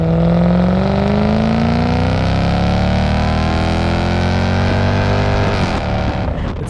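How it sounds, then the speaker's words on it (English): A 1998 Lexus GS 400 V8 with a Megan catback exhaust revs loud and close, its deep, rich note climbing steadily as engine speed rises, then dropping and wavering near the end. "hearty V8 noise"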